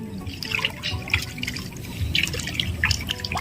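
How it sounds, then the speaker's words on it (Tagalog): Close, steady babble and splashing of a clear, fast-flowing stream in Zambales, with bright droplet splashes over a low rushing bed throughout. "Lakas ng agos, oh."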